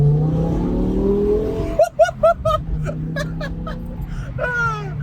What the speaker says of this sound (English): I don't know how well you guys can hear that, but that V10 absolutely drives me insane